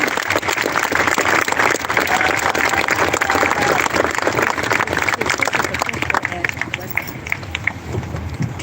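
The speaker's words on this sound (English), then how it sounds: "Now please join me in giving a warm round of applause for our superintendent" A high school graduation audience gives a loud, sustained round of applause for the school superintendent, dense crowd clapping filling the hall from start to finish with some voices mixed in.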